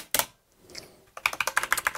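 Keys are struck on a computer keyboard: a single sharp click, a short pause, then a quick run of close, crisp keystrokes with no voices.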